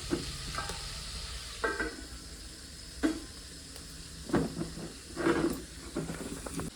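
Mutton sizzles in a pot being sautéed on a wood stove, a soft steady hiss broken by several louder stirring scrapes and bursts of frying, close and fairly quiet.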